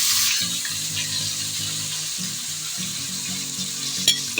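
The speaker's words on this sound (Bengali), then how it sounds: "এবার আমি গ্রেট করে রাখা গাজরটা দিয়ে দেব" Grated carrot for carrot halwa sizzles and crackles steadily in a pan, with a low tonal hum running underneath and a single brief clink near the end.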